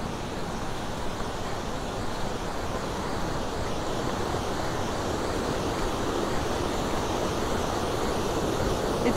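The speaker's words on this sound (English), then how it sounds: "We go and check out the waterfall right now." Steady, broadband rushing of a nearby waterfall near Rosenlaui in the Swiss Alps, constant and fairly loud with no breaks.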